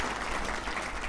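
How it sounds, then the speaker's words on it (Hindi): A crowd at a Hindi poetry gathering (kavi sammelan) claps in a brief, dense burst of applause to welcome a poet, steady and moderately loud throughout. "जोरदार तालियों के साथ पहले कवि के रूप में सुनील साहिल।"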